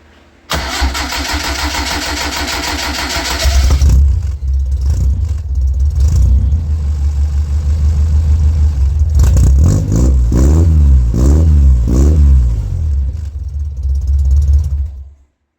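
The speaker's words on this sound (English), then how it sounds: "let's do a little before and after with the exhaust sound." A Honda D50 motorcycle starter whirs, then the engine with a new homemade muffler catches and idles loud and close before several sharp revs rise and fall through the exhaust.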